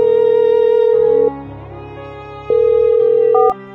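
Telephone tone heard while a call is placed, loud electronic tones in steady held stretches with a shift in pitch near the end, no voices.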